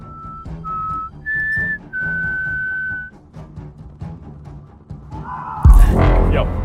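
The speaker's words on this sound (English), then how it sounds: "the man decided to take the risk of whistling to trigger its reaction" A man whistles in a swamp to provoke an animal: several sustained clear whistled notes at different pitches, close and loud, followed by rustling, movement and a sudden burst of noise.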